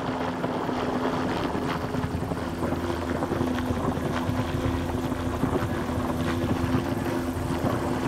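Steady rotor and engine drone of a helicopter, fairly close and constant, with a low hum holding throughout and no voices.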